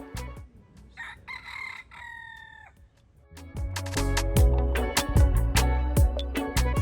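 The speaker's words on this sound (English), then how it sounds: "we heard roosters crowing as we anchored" A rooster crows at a distance in St. Croix, then music with a steady beat comes in while another crow rises faintly over it.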